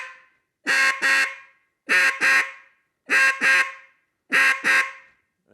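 A hand-blown duck call sounds separate quack notes in four evenly spaced pairs, each double quack loud, close and nasal, with brief silences between pairs and no talking.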